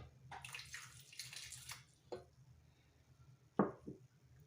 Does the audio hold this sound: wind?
no